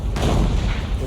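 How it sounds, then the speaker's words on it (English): A German 88 mm tank gun shell strikes the top of a ridge and ricochets during a WWII tank battle at Arracourt, a dense, continuous roaring blast of artillery-like noise, loud and sustained throughout. "The most terrifying sound I've ever heard is an 88 hitting the ridge"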